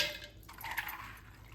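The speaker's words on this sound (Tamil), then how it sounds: "இந்த பாச்சி பயிர் இருக்கு இல்லையா அந்த ஊற வச்சு வச்ச பொருளையும் இதில் சேர்த்துட்றேன்" Soaked green gram is tipped with its soaking water into a grinder jar, giving a brief splashing pour with wet trickling that fades out within about a second.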